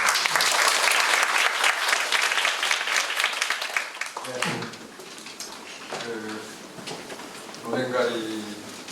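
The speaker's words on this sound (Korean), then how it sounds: "큰 박수로 맞아주세요" An audience at a literary reading night claps loudly for about four seconds, then the applause fades under a person speaking.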